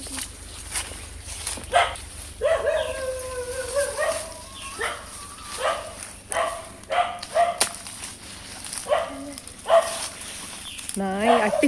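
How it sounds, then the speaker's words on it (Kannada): A dog of unknown ownership barks in a series of short, scattered woofs along a hilly plantation path, at moderate distance, alongside a nearby voice speaking. "ನಾಯಿ ಕೂಡ ಬೋಗಳ್ತಾ ಉಂಟು"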